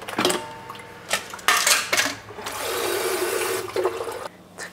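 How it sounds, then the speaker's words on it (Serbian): Boiled water from a kettle is poured over cut potatoes in a home kitchen, a sustained close splashing gush mixed with clinks and knocks of pots and utensils. "prokuvati prvo vodu u ketleru i preliti preko krompira"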